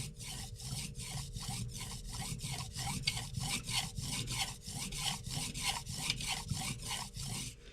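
A knife blade strokes back and forth across a whetstone in a steady, even rhythm, each pass a close, rasping hiss, repeating about three times a second with no voices.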